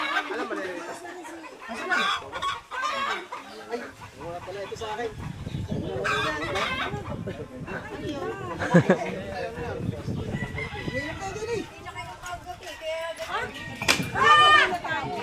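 Chickens cluck and a rooster crows amid lively chatter and children's voices, with people talking throughout.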